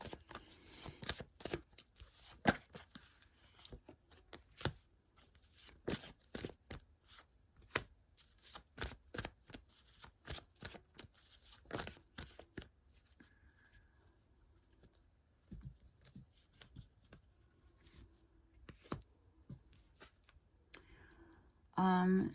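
Tarot cards shuffled and drawn: a rapid run of crisp, close riffling and flicking clicks, then sparser card taps and slides, with a soft voice speaking in between.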